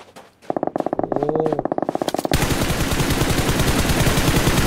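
Rapid automatic gunfire in a shooter game, a fast regular burst of shots close and loud, then a heavier continuous roar of firing taking over midway with no speech.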